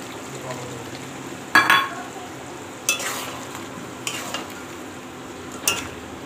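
Ground tomato going into chicken curry frying in a pan: a steady background sizzle broken by a few louder scraping, stirring clatters of a spoon against the pan, close and moderately loud, with no talk.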